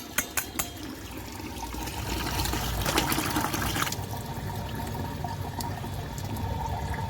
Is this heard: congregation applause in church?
no